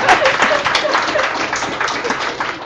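Audience claps after a talk about noise management at YVR, a brisk, close burst of applause with a few overlapping voices and quick whoops mixed in.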